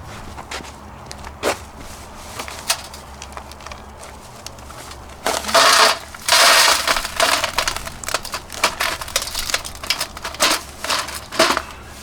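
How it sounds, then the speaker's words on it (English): Gold-bearing hard rock is crushed in a mortar and pestle, making scattered gritty crunches and knocks that grow into louder grinding bursts partway through. Nobody speaks. "So I'll be crushing this up."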